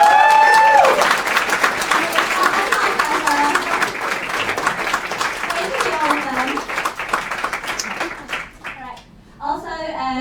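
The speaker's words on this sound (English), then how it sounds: "So a huge round of applause for them as well." Audience at a hackathon presentation event applauding the organizers, a dense sustained burst of clapping from a large crowd with some cheering, fading toward the end as a voice begins speaking.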